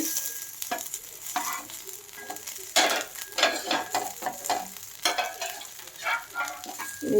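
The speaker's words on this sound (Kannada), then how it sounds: "ನೋಡಿ ಈ ರೀತಿ ಫ್ರೈ ಮಾಡಿ. ಇವಾಗ ಎಲ್ಲ ನಾನು ಉಲ್ಟಾ ಹಾಕ್ತಾ ಇದ್ದೀನಿ." Spine guard fish shallow frying in a pan for a Konkani recipe, a steady crackling sizzle broken by the scrape and clatter of pieces being turned over, close and fairly quiet with no talking.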